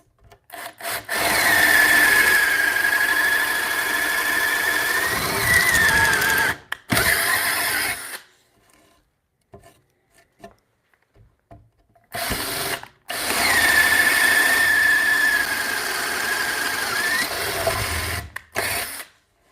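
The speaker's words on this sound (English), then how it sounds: "I don't use this auger bit very much" A power drill with an auger bit boring into wood in a home workshop gives two long loud grinding bursts, each with a whining pitch, separated by a quiet pause and short stop-start pulses.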